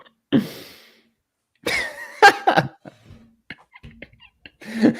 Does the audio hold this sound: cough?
yes